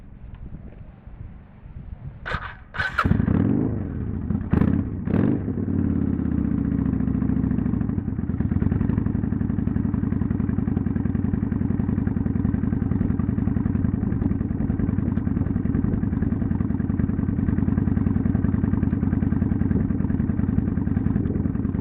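A motorcycle that has just had an HID headlight kit fitted cranks with a couple of sharp bursts, catches, and settles into a steady idle that carries on close and loud without talk.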